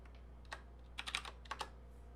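Keystrokes on a computer keyboard, a few scattered taps followed by a quick cluster of presses and a short final burst, close and clear over a quiet room hum.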